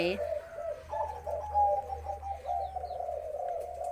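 Spotted doves from a wild-colored breeding pair coo in rhythmic, repeated phrases close by, with some low background noise and faint chirps behind them.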